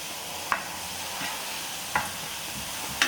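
Mushrooms frying in oil in a non-stick pan give a steady close sizzle, with a few soft clicks of stirring at intervals and no talking.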